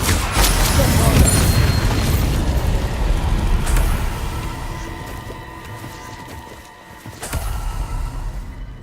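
Booming spell blasts from Bombarda in Hogwarts Legacy, a heavy, loud rumbling explosion that decays over several seconds before a second sharp blast near the end.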